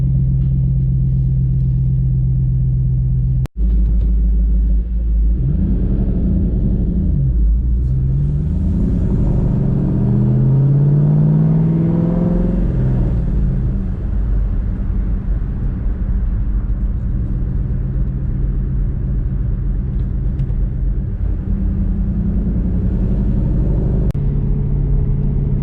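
A 2013 Shelby GT500 engine idling with a steady, loud low rumble as the revs gradually settle, with a few pitch sweeps midway and a brief click early on.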